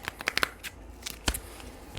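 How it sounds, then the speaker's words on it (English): Playing cards are shuffled in quick riffling bursts, a few crisp flutters and snaps with short pauses between, close and fairly quiet. "One more shuffle."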